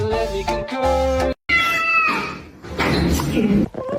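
A kitten meows loudly and repeatedly in short, bright calls, close to the listener, with a brief pause partway through before more insistent meowing.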